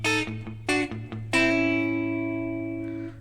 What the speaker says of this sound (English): my double stop lick will sound like this